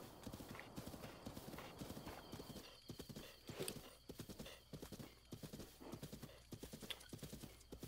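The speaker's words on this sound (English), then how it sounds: "Come on, horse." A horse gallops in Zelda Breath of the Wild, steady rapid hoofbeats pounding throughout with a brief whinny midway, mixed with game ambience and no talk.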